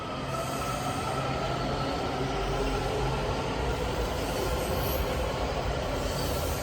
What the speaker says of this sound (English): I think I'm gonna take the metro.